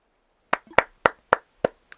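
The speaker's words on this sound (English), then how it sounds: "That was a strange clap." Six sharp hand claps in a quick, slightly uneven series from the game Animal Crossing: New Horizons, close and clear, with silence between them.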